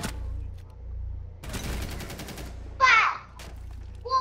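Gunfire in Rainbow Six: Siege during a hostage round, with a sustained burst of rapid shots in the middle and sharp, separate sounds around it, near and fairly loud.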